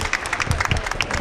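An audience at a political conference in Moreno breaks into dense, steady applause, with many close hands clapping and no voices above it.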